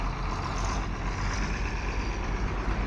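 A YTO-1404 tractor engine runs at a steady, loud rumble close by, a continuous low drone with no break.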